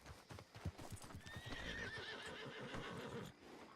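A black horse with a white snout in a roleplay video game, hooves clip-clopping faintly at a walking pace along with a soft whinny, no talking over it.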